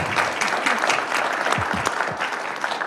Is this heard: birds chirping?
no